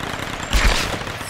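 Gunshots in the Tomb Raider video game, a short burst of loud, close shots packed into half a second, with no voices over them.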